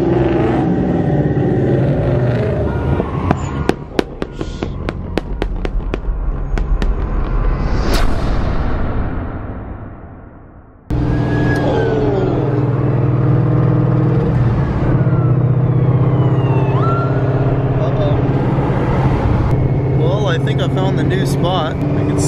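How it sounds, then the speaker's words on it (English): A Mustang spins donuts on a main street, its engine revving hard in loud, sustained bursts with tire noise and crackling pops, then a brief lull before the roar picks up again; voices talk over it. "He's doing a donut already."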